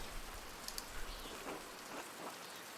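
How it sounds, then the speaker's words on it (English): Rain in the video game Pentiment makes a dense, steady patter of drops on surfaces, close and continuous for a few seconds with no talk. "I hope this rain lets up for you soon."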